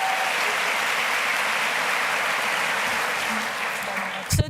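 Steady, dense audience applause fills a university welcome ceremony, loud and continuous throughout before tapering at the end.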